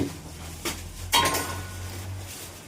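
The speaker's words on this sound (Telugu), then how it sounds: "ఒక ఎగ్ మిశ్రమాన్ని అంటే గుడ్డు కొట్టేసి అందులో ఆ మిశ్రమాన్ని మొత్తాన్ని మిక్స్ చేస్తున్నారు" At a family dhaba, egg and cornflour batter is being stirred in a metal bowl, giving two sharp clinks of utensil on metal over a quiet background hum.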